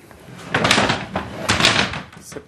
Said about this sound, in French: c'est pas grave, c'est une chaise qui tombe.